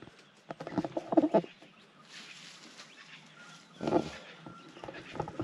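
A crow calls in the open air at a breakfast stop on a bike ride near Bobbin Head, Sydney, giving a few harsh near calls among other bird sounds and rustling.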